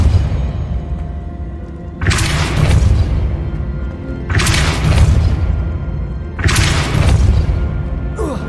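Three heavy spell blasts from the Depulso spell in Hogwarts Legacy, each a loud booming whoosh with a crashing tail, spaced about two seconds apart over a low, constant game rumble.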